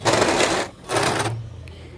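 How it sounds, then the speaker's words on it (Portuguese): A sewing machine stitching the ribbed cuff band onto a fleece sweatshirt sleeve, two close, loud runs of quick whirring stitches separated by a short pause, then quiet. "Aqui agora eu tô costurando a faixinha no punho."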